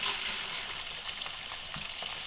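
Chopped tomato hits hot oil in a pan with curry leaves, a loud continuous sizzle and crackle with occasional stirring scrapes, close up and without talk.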